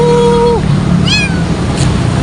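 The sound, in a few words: abandoned cat meowing on sidewalk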